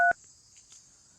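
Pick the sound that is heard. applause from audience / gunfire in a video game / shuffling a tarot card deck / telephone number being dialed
telephone number being dialed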